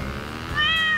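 A cat meows once in a video game, a short rising electronic-sounding mew over a steady background hum, with no talking.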